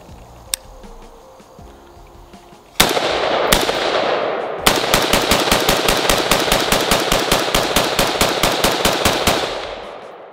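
A budget-built AR-15 rifle fires through a 25-round magazine, starting with a couple of isolated loud shots, then a long, steady string of sharp, evenly spaced cracks, each trailing into echo, with no talk.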